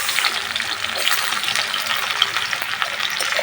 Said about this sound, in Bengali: এখন শুকনো লঙ্কা সম্বাতে দিয়ে দিলাম, পেঁয়াজ কুচি দিয়ে দিলাম